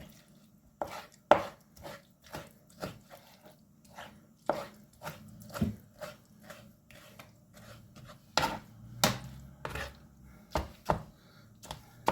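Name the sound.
chopping eggplant with a knife for eggplant salad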